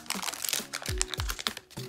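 Foil wrapper of a 2006 Topps Series 2 basketball rack pack tearing open up close, a quick run of crinkling, crackling rips with sharp snaps.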